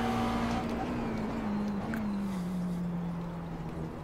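A McLaren MP4-12C GT3 race car drones in iRacing at Road Atlanta, its engine note holding steady and then sliding slowly lower as it eases off through a low-speed corner, loud and close.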